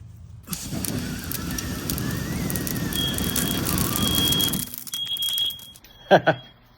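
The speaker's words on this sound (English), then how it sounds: "some of the smoke got in, set off the fire alarm" A high-pitched smoke alarm, set off by cooking smoke, beeps intermittently over a rumbling background, followed by a couple of brief loud thumps after the noise cuts out.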